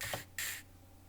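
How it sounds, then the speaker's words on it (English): A deodorant can sprayed to stand in for spray paint on a car in a drift racing game: two short hissing bursts, the second longer and stronger, close and fairly quiet, then silence. "Spray paint again. That was me with a deodorant can."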